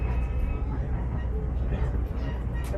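A heritage museum train rumbles steadily along the rails with a low, continuous roar and faint rattling, loud and close throughout.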